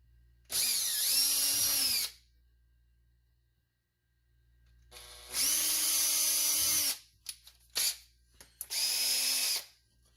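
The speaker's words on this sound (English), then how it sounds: "Pre-drill hole." A power drill pre-drills a hole for a kayak battery box, sounding as three loud, steady whirring bursts separated by pauses and a few short trigger blips, close up with no talk.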